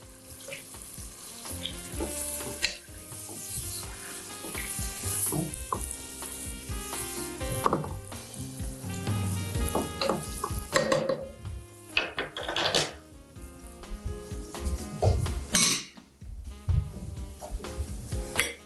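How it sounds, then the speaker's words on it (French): Grated onions added to meat in a pot give a loud, busy sizzle and bubbling simmer, with occasional clatters of a utensil against the pot throughout. "À ce moment-là, je vais rajouter les oignons râpés. On va laisser mijoter un peu."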